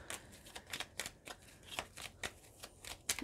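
A deck of Lenormand cards is shuffled close by, with quick, crisp riffling slaps that come in an uneven rhythm of a dozen or so short bursts, soft and with no talk.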